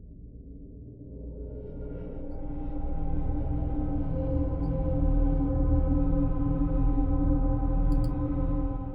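KeepForest Berserkr Pro 1.1 scoring instrument holds a sustained layered, wide drifting tone that swells gradually and stays steady, rich in stacked harmonics, with no voices.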